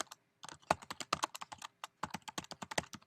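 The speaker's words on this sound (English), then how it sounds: "I can type in the information that I want" Computer keyboard typing while entering text into a blog post, two close bursts of quick, uneven keystrokes separated by a short pause, with no talking.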